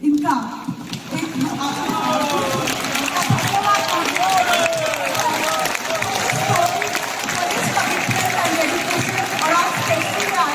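An audience at an indoor event gives a guest speaker a standing ovation. The applause is steady, dense and continuous from start to finish, with a crowd murmur blended in.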